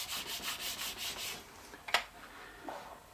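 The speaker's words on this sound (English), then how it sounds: "We'll rub it down with a scrap of stock to get some good adhesion." A scrap of wood stock rubbed back and forth over wood to press down a melted-glue edging, giving a run of soft rhythmic scrubbing strokes that fade out, followed by a brief knock and a faint rub near the end.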